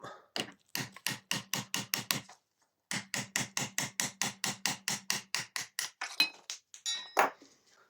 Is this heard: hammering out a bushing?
yes